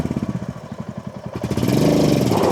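A Royal Enfield Hunter 350 motorcycle is started on a rough off-road trail. Its close engine chugs in a quick, uneven pulse, then catches and settles into a steady, louder running drone for the last second.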